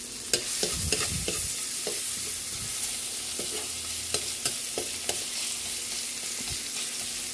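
Garlic and onion sautéing in a pan, a continuous loud sizzle with repeated scraping and stirring taps from a spatula, close up and without talk.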